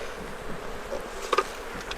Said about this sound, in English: the bees come back so fast. There's just so many of them